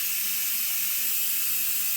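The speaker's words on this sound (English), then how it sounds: "now we just got to wait for the pressure to build up and steam to start coming out" Steam hisses steadily from a pressure canner processing jars of ground beef at 10 pounds of pressure, a constant close airy rush with a faint low hum beneath.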